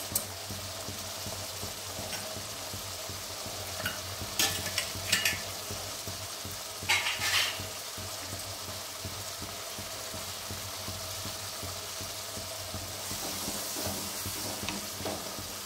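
Spice masala with Kashmiri chilli and garam masala frying and being stirred in a pan for a traditional Bengali banana-flower dish, a steady soft sizzle with occasional louder scraping stirs, no voices.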